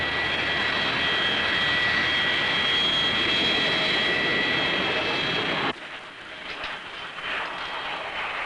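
Jet airliner at Heathrow airport, a loud continuous engine roar with a high whine that cuts off abruptly partway, leaving a quieter rumble, no voices.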